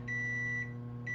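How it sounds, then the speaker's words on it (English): An oven timer beeping in a home kitchen during cinnamon roll baking, two steady electronic tones separated by a short gap, close and clear over a low hum. "Beep."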